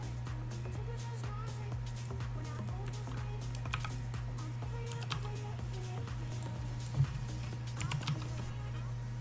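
Typing on a computer keyboard during a particle effects tutorial, soft scattered key clicks over a steady low electrical hum, fairly faint and close, with no talking.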